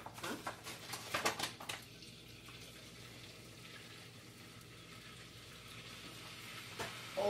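Flour going into melted butter in a pan, with a few clattering scrapes and taps at first, then a low, quiet sizzle that settles into a steady background hiss.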